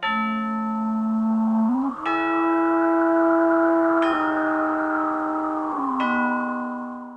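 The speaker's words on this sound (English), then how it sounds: "Faraway bells chime in unison with a passing hollow wind, revealing the chilling melody." Distant bells ring out together in a slow, eerie melody from a Haunted Mansion theme park soundtrack, three clear strikes about two seconds apart, each ringing on over a hollow, swelling wind that keeps blowing between them.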